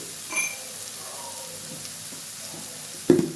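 Eggplant pieces frying in a pan for a coconut curry give a quiet, steady sizzle, with a small clatter near the end.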